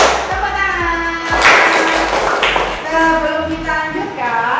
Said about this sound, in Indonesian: Tepuk 1, tepuk 2, tepuk 3, tepuk tangan.